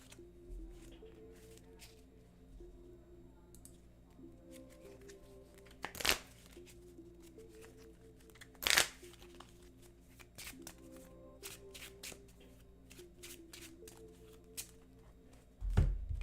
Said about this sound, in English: And shuffle up my deck.